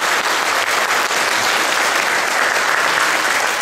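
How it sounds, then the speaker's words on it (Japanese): Sustained, dense applause from a large audience fills the room at a floral design competition final, steady and loud without a break and with no voices rising above it. "今一度盛大に拍手をお願いいたします。"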